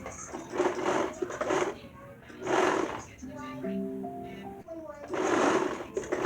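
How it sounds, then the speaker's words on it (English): A sewing machine stitches leggings in three short whirring bursts, with a voice talking in the pauses between runs. "we just want to sew and see how well this turns out"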